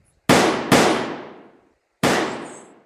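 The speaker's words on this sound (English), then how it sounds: "I hear 3 gunshots in rapid succession" Three sharp gunshot-like bangs, two close together then a third after a pause, each with a long decaying echo, loud and alone with silence between.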